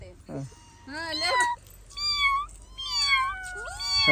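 A human voice imitates a cat, giving several drawn-out, wavering meows in quick succession, close and fairly loud.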